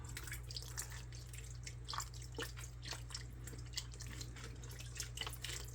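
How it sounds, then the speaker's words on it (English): Chicken broth is poured into a slow cooker in a kitchen, making faint trickling and dripping liquid sounds over a steady low hum, with no talking. "pour some chicken broth in here also"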